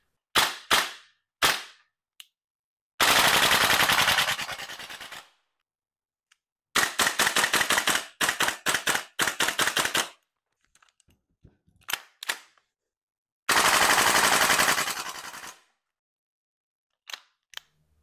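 Gas blowback fire from a VFC BCM MK2 MCMR 14.5-inch airsoft rifle, a light replica whose steel bolt cycles hard: sharp single shots, then fast bursts of crisp cracks in several strings, each dropping into silence.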